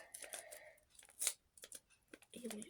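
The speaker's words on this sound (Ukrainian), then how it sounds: "І відкриваємо ось цей раз пакетик." Small paper surprise packet being torn open by hand, a few short crisp rips and crinkles close to the microphone, with quiet pauses between them.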